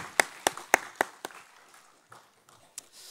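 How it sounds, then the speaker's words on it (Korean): Sparse hand claps ring out at a Wednesday worship service in a Daegu church: five or six sharp, evenly spaced claps close by, then a few scattered fainter ones as the clapping dies away. "우리 하나님 아버지께 영광의 박수를 올려드립니다"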